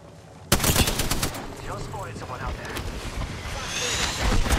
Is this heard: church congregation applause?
no